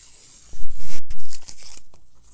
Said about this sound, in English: we'll take the tape off and see how she looks